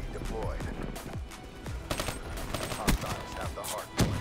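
Rapid bursts of XR2 rifle fire in Call of Duty, a string of sharp cracks mixed with other game noise and a voice talking over it.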